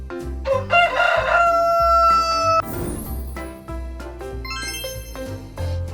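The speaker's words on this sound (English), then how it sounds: "rooster," A cartoonish rooster crow over a bouncy musical backing with chiming tones, loud and upfront.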